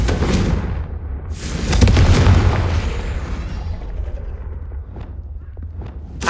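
A Confringo blasting spell from Hogwarts Legacy detonates in a deep booming explosion that swells loud and then rumbles away into a fading tail, alone without talk.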